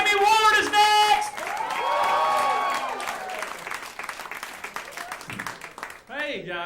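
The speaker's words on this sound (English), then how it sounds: "Keep that applause going." Audience at an Atlanta stand-up comedy show applauds and cheers loudly, with whoops rising over the clapping before a comedian starts talking near the end.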